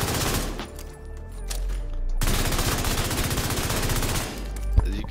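Rapid automatic gunfire from a Striker build in The Division 2 rattles in dense bursts, a pause leading into a long sustained volley with sharp repeated reports, ending with a single heavier thump.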